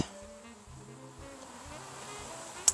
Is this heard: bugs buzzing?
yes